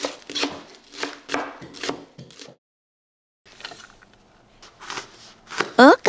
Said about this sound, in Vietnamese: đầu hành thì mình băm nhuyễn.